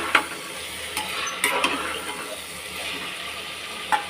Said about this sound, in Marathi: मटर टाकलं की आपण पनीरचे छोटे छोटे तुकडे करून घेतले, ते पनीर टाकून द्यायचं